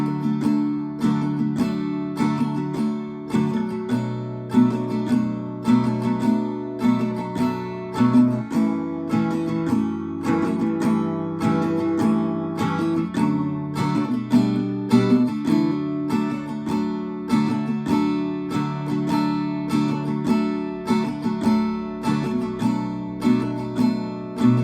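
Acoustic guitar strummed through the whole first verse of a song in its live version, steady rhythmic chord strokes with clear accents, played alone and close without any voices.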